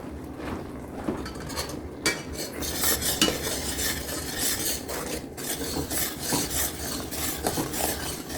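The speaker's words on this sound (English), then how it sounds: "I'm going to just add the rest to the sugar, that empty stat box, and I'm going to come over here and stir this in." Pectin and sugar being stirred into a pot of blueberry jam, a steady scraping, rubbing spoon sound with small clinks against the pan, continuous and close without talk.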